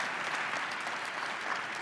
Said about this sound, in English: Let's hear the applause from the audience.